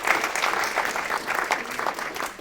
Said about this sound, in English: Now let's give everyone a round of applause.